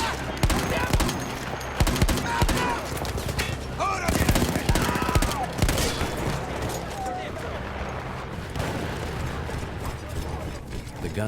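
A mounted machine gun in Battlefield 1 fires in loud, rapid bursts alongside scattered gunfire and mechanical clatter, with someone talking over the shooting.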